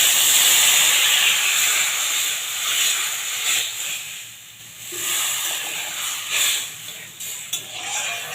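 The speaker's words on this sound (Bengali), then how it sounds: "সিদ্ধ হওয়ার মতন আমি জল দিয়ে দিলাম সজনে ডাঁটা আলুটা" Water poured into a hot pan of fried drumsticks and potatoes, a loud, sharp steam hiss that eases off and flares again in bursts as it sizzles.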